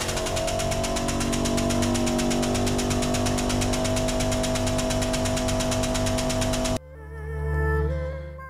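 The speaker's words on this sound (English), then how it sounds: "I instead decided to try using my truck's new dual piston compressor just to test the air jack operation." A truck's dual-piston air compressor drones loud and steady at close range with a constant mechanical hum, then cuts off abruptly near the end, leaving a brief quieter tail.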